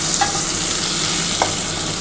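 Teasel gourd (kakrol) frying in oil in a pan, a steady close sizzle with a couple of soft stirring scrapes, no voices.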